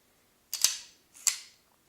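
Two sharp metallic clicks from an unloaded Star Model B pistol being dry-fired, each a crisp snap with a short rattling tail, heard close up and alone, about half a second apart.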